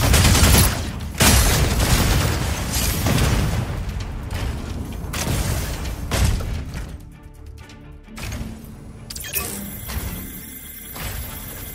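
Energy autocannon fire in the mech combat video game Mecha BREAK, dense rapid bursts with booming impacts and mechanical clanks, loud at first then thinning into sparse shots and whirring machinery.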